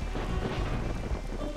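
Thunder rumbling with steady heavy rain in the video game Glover, a continuous loud storm bed of low rumble and hiss with no voices.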